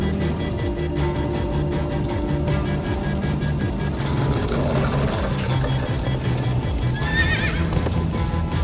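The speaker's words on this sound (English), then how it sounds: "Horses!" Horses in the video game Minecraft: Story Mode whinny and neigh over a busy mix of hoof clip-clops and a rumbling game soundscape, with a shrill neigh rising near the end.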